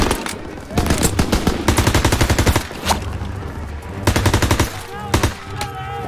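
Bursts of MP40 submachine gun fire in Call of Duty: WWII, rapid loud rattling volleys separated by short pauses, with other combat noise and some voice in the background.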